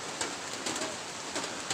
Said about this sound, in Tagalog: karon ra ni nga grabe nga ulan